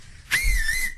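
A loud, clear finger whistle bursts in sharply after a brief quiet, holding one steady high tone for most of a second before cutting off.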